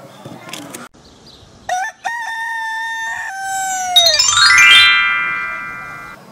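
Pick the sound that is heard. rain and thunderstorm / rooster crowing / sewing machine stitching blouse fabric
rooster crowing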